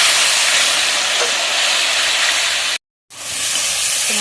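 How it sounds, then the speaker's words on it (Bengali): Spice paste sizzles and hisses while being sautéed in oil for a black kab fish kalia. The hiss is loud and continuous, with a brief silent break near the end before it resumes. "এবার ভালোভাবে কষিয়ে নেব"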